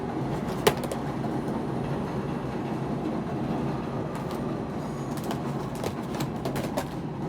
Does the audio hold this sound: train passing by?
yes